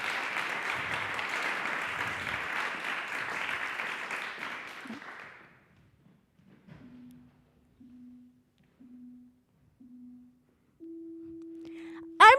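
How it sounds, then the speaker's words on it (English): Audience applause for the FameLab finalists fills the first five seconds, dense clapping that fades out, followed by quiet and a series of short electronic beep tones, then a longer steady tone. "So please, a big applause for everybody, and especially now for Daksha to be on that stage"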